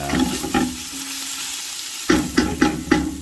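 Tomato paste sizzles and fries in olive oil in a pan for an Italian gravy sauce, with a steady crackling hiss and several distinct scraping stirs near the end.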